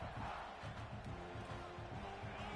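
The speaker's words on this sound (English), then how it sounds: "This crowd bringing the energy and noise early." Football stadium crowd noise at a game, a steady, fairly faint roar of cheering and shouting with a commentator's voice running over it.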